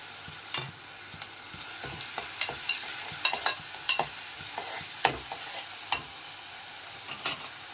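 Chopped onion and chana dal fry in hot oil for beetroot kara kozhukattai, giving a steady close sizzle broken by frequent sharp spatula scrapes and taps against the pan. No one speaks.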